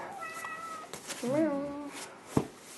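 A house cat meows twice, a short call and then a longer rising-and-falling meow, close and clear, with a person talking softly around it.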